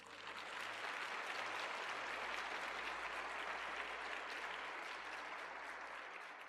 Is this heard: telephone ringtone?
no